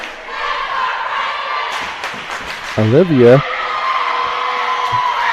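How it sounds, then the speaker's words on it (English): A Mineola high school crowd chants its freshman cheer at a volleyball game against Quitman, a short rising-and-falling vocal chant over gym noise and shoe squeaks, with a commentator talking throughout. "that's our freshman cheer from this Mineola crowd"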